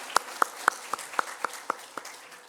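A Korean church congregation at an Easter Sunday service claps in unison, eight sharp, evenly spaced claps ringing in a reverberant hall before fading.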